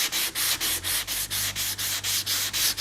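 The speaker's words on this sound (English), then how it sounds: "you're gonna sand all this dry powder off, and you can just see it just comes right off" Steady back-and-forth strokes of a sanding block removing dry primer powder from a 1963 Ford F100, about a dozen rhythmic rasping passes, close up with no talking.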